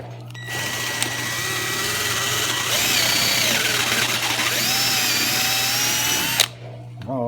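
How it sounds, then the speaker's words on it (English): A power drill drives a step drill bit through a part clamped in a vise, a loud, steady whine running continuously for several seconds close by, then stopping abruptly. "we're gonna step drill this guy out a little."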